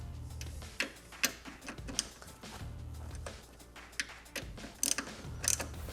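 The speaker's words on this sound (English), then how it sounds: "we'll tighten down the socket head bolts using a 5mm hex key." Socket head bolts on a D2 Racing RS coilover being snugged down with a 5mm hex key during a 10th-gen Honda Civic install, giving a string of close, light metallic ratcheting clicks and taps at an uneven pace, alone without talk.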